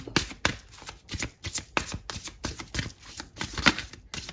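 Tarot cards being shuffled by hand, a quick series of crisp riffling bursts repeating in an irregular rhythm, close and fairly quiet.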